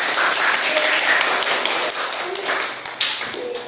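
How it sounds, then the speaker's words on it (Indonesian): Classroom of primary pupils clapping for a group, a dense burst of many small hands clapping that gradually thins out and fades toward the end. "coba tepuk tangan untuk kelompok C."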